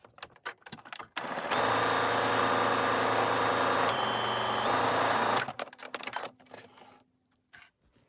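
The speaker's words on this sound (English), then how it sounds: "I'm going to backstitch at either end just to secure it off as well" A sewing machine runs a steady, continuous stitch along a seam for about four seconds, pausing briefly partway as it reverses to backstitch, then stops; quieter handling noises surround it.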